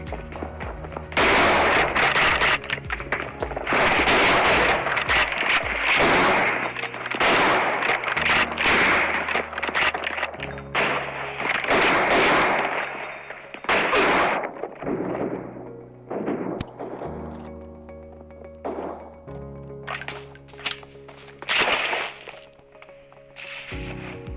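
Gunfire in a PUBG match played on an OPPO A54 phone: dense bursts of shots and explosive cracks, some rapid and some single, loud and continuous with brief lulls.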